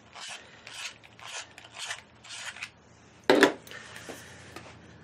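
A light phthalo green colored pencil is sharpened, giving a series of five short rasping grinds, each about half a second, close and fairly quiet, followed by a sharper scraping burst and faint rubbing.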